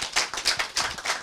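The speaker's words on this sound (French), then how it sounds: "je vous prie d'applaudir pour le président qui n'est pas avec nous" Audience applause at a French-language televised foundation event, a short burst of many hands clapping in uneven pulses, fairly close and steady with no voices over it.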